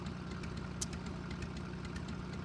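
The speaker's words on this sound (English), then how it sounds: "I feel like I'm talking over the sound of the machine. That's I could just adjust the volume. We don't need to hear the engine this loud." A machine engine runs steadily in a video game, a continuous low rumbling idle with a faint knocking pulse, heard alone without talk.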